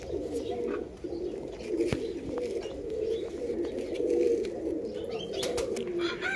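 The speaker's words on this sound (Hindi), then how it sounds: "ये भी कबूतर भाई का चैम्पियन कबूतर है" Champion pigeons in a loft at R.S. Pura, Jammu and Kashmir, coo steadily in a soft low murmur that runs throughout, with faint chirps and a brief flutter mixed in.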